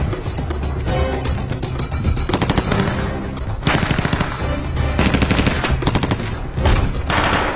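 Paintball guns fired at targets during a training scene in a film: loud, rapid bursts of automatic-style shots in long rattling volleys, close and continuous with brief pauses between strings.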